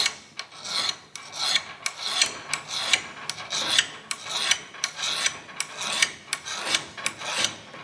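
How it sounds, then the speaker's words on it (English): A hand scraper works a bronze steam engine bearing in short, regular strokes, each a brisk close rasp repeating about twice a second with no talk. "Each little stroke of this scraper is taking a small amount of bronze off each time."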